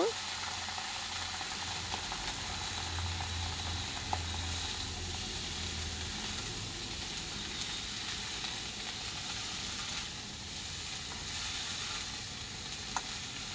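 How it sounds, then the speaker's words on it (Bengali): Fish head and chopped cabbage cooking together in a pan for a Bengali ghonto give off a steady, close, dense sizzle, with faint scraping and clicks of stirring throughout. "এখন এগুলাকে ভালো করে নেড়ে দিব"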